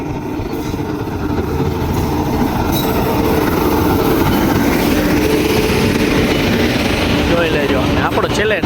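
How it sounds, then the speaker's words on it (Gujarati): A long Okha–Dehradun passenger train rolls past close by, a loud continuous rumble of coaches and wheels on rail with faint squealing, steady throughout. "બહુ લાંબી ટ્રેન છે"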